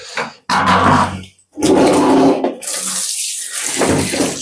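A bathroom tap gushes water over home air cooler parts being washed, coming in loud bursts separated by brief pauses as the flow is interrupted and restarted.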